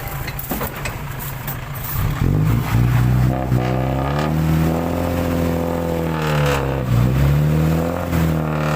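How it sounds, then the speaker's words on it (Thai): A farm tractor's engine revs hard as its wheels slip and spin in deep mud while trying to free a dump truck stuck in a bog, a loud, steady droning roar with rising and falling pitch. "รถไถลื่นครับตะกุย"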